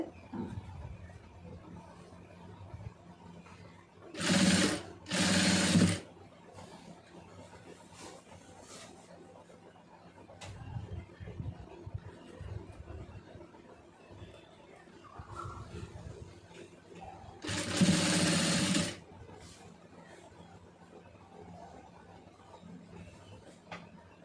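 A sewing machine stitches piping in two short loud bursts near the start and one longer run later, close up, with quiet handling sounds and faint talk between runs.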